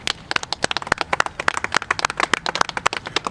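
A small group claps for a legislator at a bill signing, with sharp close individual hand claps in an uneven rhythm and no speech.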